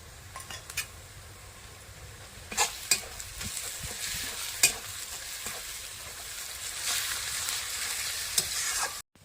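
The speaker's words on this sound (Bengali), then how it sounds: "পেঁয়াজ রসুন ভাজা হয়ে গেছে" Steady sizzling of onion and garlic paste frying in a pan, with a spoon scraping and a few sharp metallic clinks against the pot.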